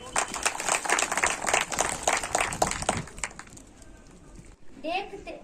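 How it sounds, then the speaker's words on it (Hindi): A crowd at an agriculture awareness camp in Dalsar claps and applauds loudly for a few seconds, then the clapping fades out and a voice speaks briefly near the end. "जोरदार तालियां।"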